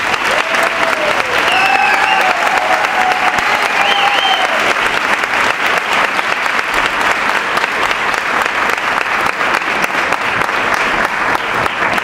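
A crowd at a Christmas gathering in Grado applauds musicians steadily for several seconds, dense clapping holding at an even level, with a few voices calling out briefly near the start.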